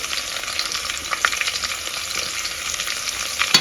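Steady hot-oil sizzling of garlic frying in a pan, a dense crackle with occasional sharper pops, close and continuous with no talking.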